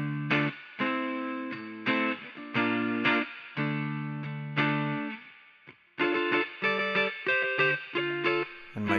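Electric guitar through a reverb effect playing a run of chords with a lingering, washed tail on each, rhythmic and fairly loud, no voices.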